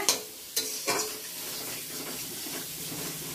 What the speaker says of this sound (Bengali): আলুর সঙ্গে মশলাটা ভালো করে কষিয়ে নিচ্ছি।